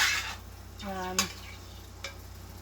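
Flour is stirred into hot oil in a pan for country gravy, giving a soft scraping stir and a brief sizzle, with a spoon clinking against the pan a couple of times, close and quiet.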